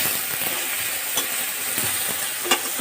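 Jujube fruits frying in a pan over a lowered gas flame give a steady close sizzle, broken by occasional scraping stir strokes.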